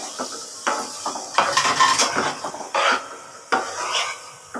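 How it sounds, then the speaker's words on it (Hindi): Marinated chicken frying over medium heat as a metal spoon stirs it in the pan, repeated close scraping and clattering strokes over a soft sizzle. "चम्मच हिलाना है, दरमियानी आंच पे हम इसको अच्छे से फ्राई कर लेंगे।"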